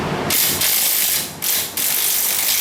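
A ratcheting wrench tightens the nut on a sway bar link of a 2003–2008 Corolla Type-S, giving three quick bursts of close, crisp clicking separated by brief pauses.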